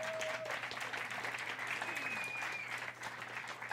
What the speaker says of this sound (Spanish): dése un aplauso a usted mismo ahí